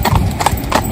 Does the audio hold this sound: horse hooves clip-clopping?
yes